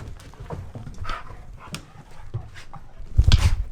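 Puppies move about nearby with soft whimpers, scuffling paws and brief yips scattered throughout, ending in a louder burst of rustling close to the listener.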